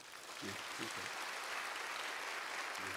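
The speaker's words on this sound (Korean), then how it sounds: "박수 한번 해주세요" Congregation applause at a church testimony service, a dense steady clatter of many hands that swells in and holds, with a brief voice passing over it near the start and end.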